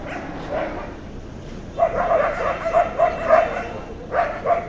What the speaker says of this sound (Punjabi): ਕੁੱਤਿਆਂ ਦਾ ਰੌਲਾ ਰੱਪਾ